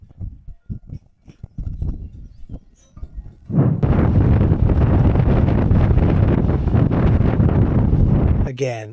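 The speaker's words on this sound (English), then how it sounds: "today it's really windy" Strong wind roars into the microphone outdoors at an old abandoned cabin under restoration, a dense steady rush that starts abruptly after a few seconds of quieter thumps and lasts several seconds.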